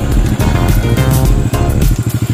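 A restored Honda C70 motorcycle from the mid-1980s runs in a village, its small engine revving loud and close before settling into a choppy, pulsing idle.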